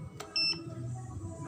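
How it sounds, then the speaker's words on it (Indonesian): A Krisbow KW06-287 meter gives one short, clear electronic beep as its select button is pressed, preceded by a faint click and set over quiet room background. "Ini kita pencet dulu, ringan saja sampai dia berpindah dan berbunyi bip."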